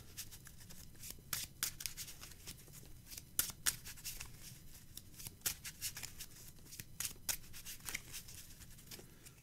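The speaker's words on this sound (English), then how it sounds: "We'll shuffle this up one more time just to be sure we've got everything" A pile of Magic: The Gathering cards is shuffled by hand, giving quiet, close bursts of riffling and sharp snapping clicks in an uneven rhythm, with no talk.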